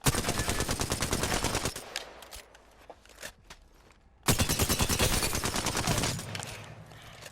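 Rapid automatic gunfire from a video game gun, a dense burst of shots for nearly two seconds, a short lull with scattered pops, then another long sustained volley, loud and close.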